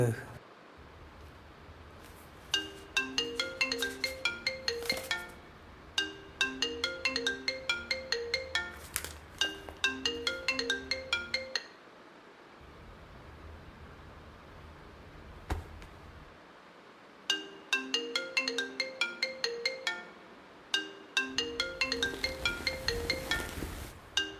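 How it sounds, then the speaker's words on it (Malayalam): A phone ringtone plays in repeated bursts of a bright electronic melody, several cycles separated by short pauses, loud and clear in a quiet room. "ഞാൻ എത്ര തവണയാ വിളിക്കണേ? നീ എന്താ ഫോൺ എടുക്കാത്ത?"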